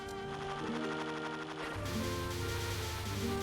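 A bomb attack in a Touhou bullet-hell shooter game, heard as a dense, continuous burst of electronic blasting and crackling effects layered over steady game music, with no voices.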